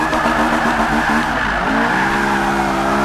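A car drifting in Forza 5, tires squealing steadily and loudly over a droning engine, the squeal wavering in pitch as the slide continues.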